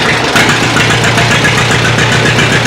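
A John Deere tractor engine runs steadily up close, a loud, even mid-pitched chugging rumble with a slight knocking rhythm and no pauses.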